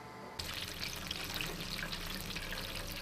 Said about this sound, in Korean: 지글지글 맛있게 튀겨지는 소리 듣기만 해도 군침이 도네요